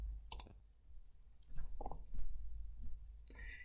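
Computer mouse clicks sound as a few sharp, isolated taps spread apart, quiet and close, with soft faint handling noise between them and no talk.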